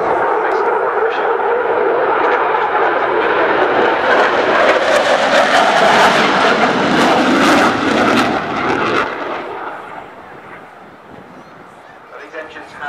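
A loud, broad roar of Airbus A380 jet engines swells and holds at an airshow at Farnborough, then fades away as the aircraft recedes into the distance.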